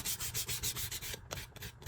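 Sandpaper rubs quickly back and forth along the edges of a leather card wallet, a close, quiet, rhythmic scratchy swishing of about a dozen short strokes.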